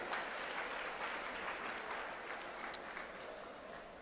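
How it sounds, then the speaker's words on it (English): Guests at an autism charity gala applaud a dance therapy program, a continuous, moderately quiet wash of clapping from a seated crowd that fades gently over four seconds. "So once again, give an applause for the Banuja and the dance therapy program"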